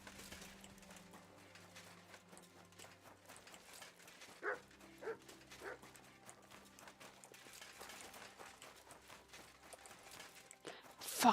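A dog in the medieval game Kingdom Come: Deliverance 2 gives a few scattered barks and whimpers over quiet in-game ambience with faint footsteps and hoof-like clopping, closing with a louder burst.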